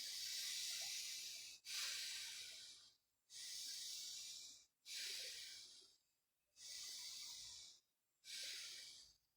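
Deep, slow relaxation breathing: six long airy breaths in a steady rhythm, each a broad hiss-like rush separated by short silent pauses, close and alone with no talking.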